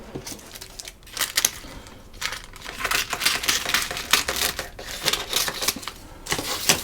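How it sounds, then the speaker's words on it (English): Scissors cut through excess baking paper around puff pastry, a run of crisp snips and crinkles in uneven bursts, close and fairly loud with no talking. "I'm just going to cut off the excess baking paper."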